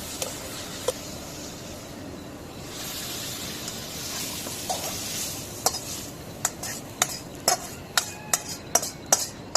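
Tempering spices (baghar) hiss and sizzle in hot oil while a utensil stirs, building to a run of sharp metallic scrapes and clinks against the pan toward the end.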